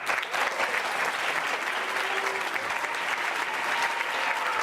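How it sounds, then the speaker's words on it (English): School theater audience at a high school production of Annie in 2013, clapping for the parent volunteers. The applause is loud and sustained, a dense steady clatter from a large crowd. "would you please stand up and get a round of applause?"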